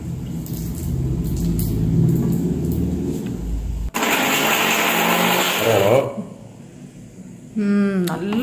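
A spice grinding mill running loud and steady in a shop, a broad whirring roar that stops abruptly partway, followed by quieter room noise and a short voice near the end.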